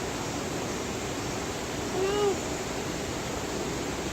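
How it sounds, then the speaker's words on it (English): A pet bird kept for talking gives one short whistled call partway through, fairly faint against a steady background hiss, with no one speaking. "You're a pretty bird."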